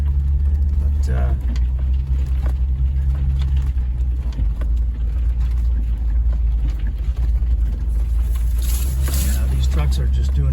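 Land Rover trucks driving along a green lane give off a steady, heavy low engine rumble throughout, close and loud, with a voice talking over it.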